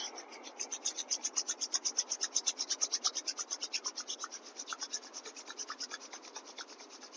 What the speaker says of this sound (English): Again rub your hands.